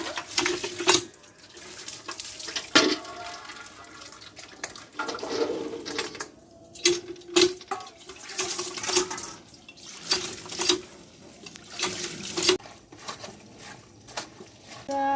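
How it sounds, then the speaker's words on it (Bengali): Water gushes from a hand-pumped tap over taro being washed by hand, splashing in uneven bursts with pauses between strokes of the pump, close and moderately loud. "বন্ধুরা, আমি এবার কল টিপে কচুগুলাকে ধুয়ে নেব।"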